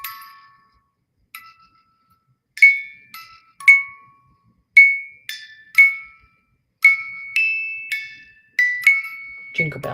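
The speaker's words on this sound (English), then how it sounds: "Jingle bells." A small vintage Christmas decoration chimes out the Jingle Bells tune in bright, plinking metallic notes, each ringing and decaying, played steadily and clearly with no talk over it.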